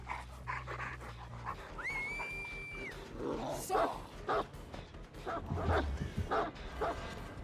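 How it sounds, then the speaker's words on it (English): A dog pants quickly and breathily at close range, mixed with a rising electronic tone and other scattered sounds. "You sound slightly, exhausted there,"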